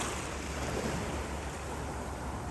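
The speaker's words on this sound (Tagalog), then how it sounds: "Ang ganda ng dagat, guys." Sea waves wash steadily at the grotto in Panalipan, Catmon, Cebu, a continuous broadband surf roar mixed with wind, with no voices.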